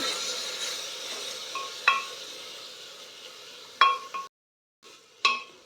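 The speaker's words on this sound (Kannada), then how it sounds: "ಟೊಮೊಟೊ ಚೆನ್ನಾಗಿ ಫ್ರೈ ಆಗಬೇಕು" Tomatoes frying in a pan for tomato bath, a soft sizzle broken by a few sharp clinks of a spoon stirring against the pan, with a brief silent gap near the end.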